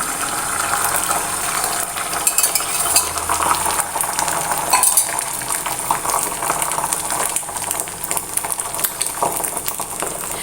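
An egg cooks in a lightly oiled pan for a chappathi egg roll, giving a soft continuous sizzle and crackle with occasional scraping and utensil clinks close by.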